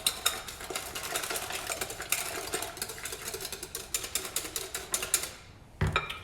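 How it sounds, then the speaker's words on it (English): Icing sugar and vanilla whisked in a bowl, rapid scraping and clinking strokes of the whisk against the sides, close and busy before a brief pause at the end. "Whisk it or mix it. This is literally just combining it"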